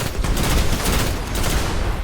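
Rapid, continuous automatic fire from the Red Death pulse rifle in Destiny, a loud, dense stream of shots aimed at enemies with no pauses across the burst.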